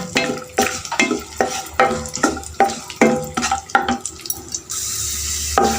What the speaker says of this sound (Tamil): நெய் காஞ்சிருச்சு முந்திரி திராட்சை போட்டுக்கலாம் நல்லா வந்து ஃப்ரை பண்ணிக்கோங்க